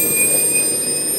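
A small turbojet engine fitted to a ride-on twist car spins up indoors, a loud steady whooshing roar with high whining tones held throughout the short burst.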